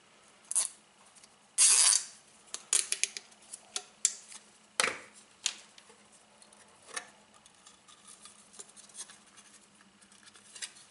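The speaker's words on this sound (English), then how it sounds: "So take your zip ties and tie that sucker down, and tie it down pretty good." Zip ties being pulled tight around crossover coils for a PA cabinet, a series of sharp ratcheting clicks and snaps, close and irregular, loudest early and fading to faint ticks.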